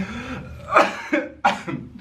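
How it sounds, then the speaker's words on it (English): Several harsh coughs, close and fairly loud, in separate bursts over about two seconds with short pauses between them. "Now I'm actually coughing."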